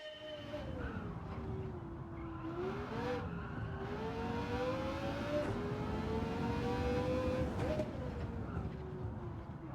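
SRT Tomahawk X race car engine in a video game at Tsukuba, a continuous high-pitched whine rising and dipping as the car accelerates and shifts, loud and steady throughout.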